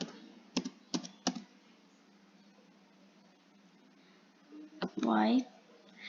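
Computer keyboard keys clack in a few quick separate taps, then another short burst after a quiet pause, followed by a brief spoken voice at the end.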